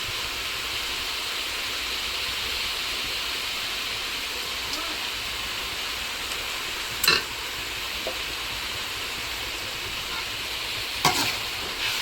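Onions and green chilies sauté in a pan, a steady broad sizzle and hiss running throughout with a couple of brief louder spatula scrapes near the end, no voices.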